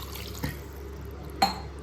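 Two brief, quiet splashes of water poured into a pan of mashed potato for puri sagu, about a second apart, over low background hum.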